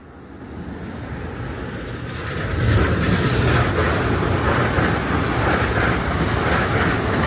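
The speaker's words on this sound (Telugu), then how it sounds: "ఇప్పుడు ఎల్ఐఆర్ ట్రైన్లో వెళ్ళాలి" A Long Island Rail Road commuter train in New York City rumbles loudly at close range at peak hour. A broad steady roar builds over the first few seconds, then holds with a faint rhythmic clatter of the wheels.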